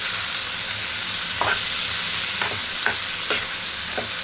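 Paneer fries in a pan with a steady, loud sizzle, broken by several short scraping stirs of a utensil.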